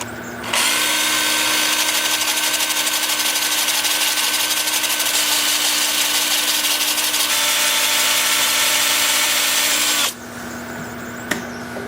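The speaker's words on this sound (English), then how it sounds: "I'm starting at 80 grit on my 2-inch disc sander." A 2-inch disc sander with 80-grit paper whines steadily at close range, grinding against a wooden bowl for about ten seconds before cutting off, with a brief knock afterward.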